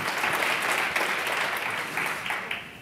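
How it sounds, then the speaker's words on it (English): A research forum audience breaks into close, steady clapping for three reporters and editors, the applause dense and even before easing slightly toward the end. "Please give a big warm round of applause to all three of our amazing reporters"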